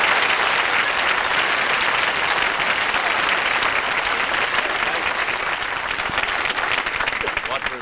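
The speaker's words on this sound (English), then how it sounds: "You can applaud a little bit if you like." A television studio audience applauds in a dense, steady roar of many hands, loud and unbroken from start to finish.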